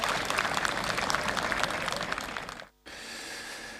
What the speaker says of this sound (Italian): La comunità si stringe infine attorno a questa famiglia così provata con un timido applauso